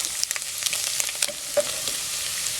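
Garlic frying in pork fat rendered in the pan, a continuous close crackle and hiss scattered with small pops and a few light stirring taps, no voices.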